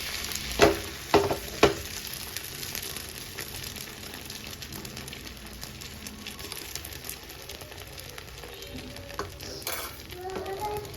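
Beaten eggs for a double egg omelette frying in a pan, a steady soft sizzle throughout with a few sharp clinks of a utensil near the start and later scraping stirs.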